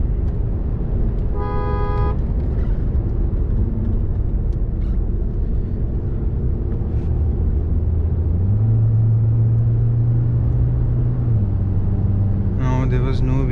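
Engine and road rumble from an automatic car pulling away from a standstill, the engine note rising in steps as it shifts gears, with a brief horn toot early and another near the end.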